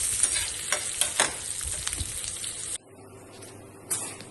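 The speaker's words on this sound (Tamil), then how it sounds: "போட்டு நல்லா வதக்கிட்டு" Garlic sautéing in a pan for garlic chutney, a steady sizzle with repeated stirring scrapes, loud and close, then abruptly dropping to a quieter fizz before one more stir near the end.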